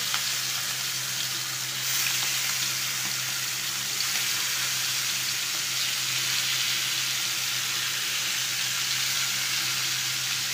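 Pangas fish fries in hot oil, giving a dense, continuous sizzle that stays loud and even throughout, with no talking.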